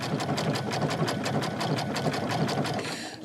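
A sewing machine stitching with a wing/hemstitch needle, fabric moving under the feed dogs, a fast even mechanical clatter of needle strokes running steadily for a few seconds, close and alone.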